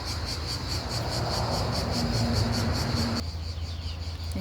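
A cricket chirps steadily in a rapid, continuous trill, close and fairly loud, with faint background hum and no talking; the chirping carries on throughout while the ambient noise drops partway.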